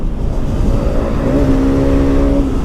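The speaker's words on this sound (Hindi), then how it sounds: "एक हाथ से सामान पकड़ना पड़ रहा है और एक हाथ से रेस करनी पड़ रही है" A Yamaha R15 sport motorcycle revs on a road ride from Kargil to Leh in Ladakh, with a loud, steady engine drone and a rising rev partway through, heard close and without talk.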